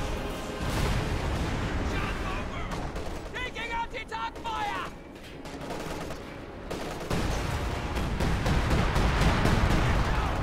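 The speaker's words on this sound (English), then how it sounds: "Time on target artillery over there on the right side." Time-on-target artillery barrage in a WW2 strategy game, a sustained rumble of heavy booms and crackling fire that swells toward the end, with speech heard over the din.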